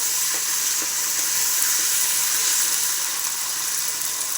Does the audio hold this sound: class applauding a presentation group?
no